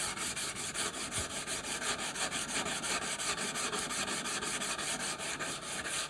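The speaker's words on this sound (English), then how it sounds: "Now we're going to take the coarse sandpaper in the bottle again." Coarse sandpaper rubbing steadily back and forth along the edges of a wooden piece, rounding them over; a continuous close-up scratchy rasp with a regular stroke rhythm and no talking.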